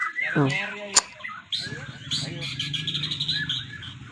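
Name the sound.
white-rumped shama (murai batu) songbird chirping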